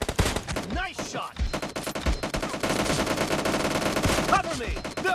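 Rapid automatic gunfire from a PUBG Lite team deathmatch, dense bursts of shots rattling almost without pause for several seconds, loud and close, with a few brief gaps between volleys.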